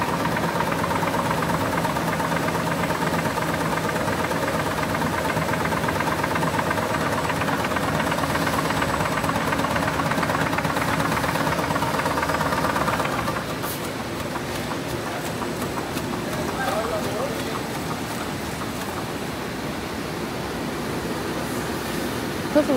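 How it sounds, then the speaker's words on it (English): A DES320D two-unit rotary die cutter and slitter machine perforates label stock, a steady loud industrial drone with rhythmic mechanical knocking that shifts slightly partway through and runs continuously. "Perforation line label production interstation die cutting unit."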